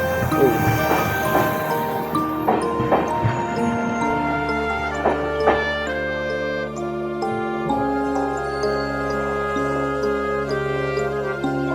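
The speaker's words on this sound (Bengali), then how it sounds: "কাঞ্চনজঙ্ঘা কিন্তু ছেড়ে দিল আগরতলা রেলওয়ে স্টেশন থেকে" Kanchanjunga Express with new LHB coaches pulling out of Agartala railway station, a steady low rumble with bright tonal whine and metallic clinks, close and continuous, with faint voices in the background.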